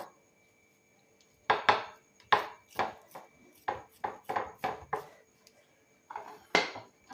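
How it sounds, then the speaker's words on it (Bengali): A knife cuts the edges of pressed sattu (roasted chickpea flour) dough into squares, making a close series of sharp, crisp taps and chops against the board in quick irregular bursts, with no talking. "এখানে একটা ছুরি নিয়েছি ছুরিটা দিয়ে কিন্তু এরকম সাইডগুলোকে এ করে দেব চৌকোনা মতন করে নেব"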